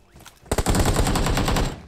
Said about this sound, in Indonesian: Ada nembak dari jauh